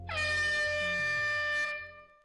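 A single loud, sustained game show horn blast signalling the start of a task, lasting over a second, steady in tone, then fading out.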